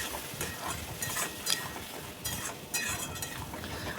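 Patol and prawn curry being stir-fried (kosha) in a pan, a steady close sizzle with repeated scraping and clinking of a spatula against the pan, no talking.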